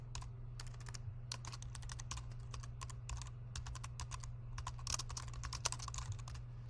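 Steady, rapid clicking of keys on a computer keyboard as text is typed into a layer in Adobe Premiere Pro, close and clear over a low constant hum, with no voices.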